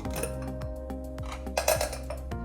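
Close metallic clanks and clinks as a pressure cooker lid is handled and opened after cooking Karuppu Kavuni rice, a few sharp knocks in quick succession.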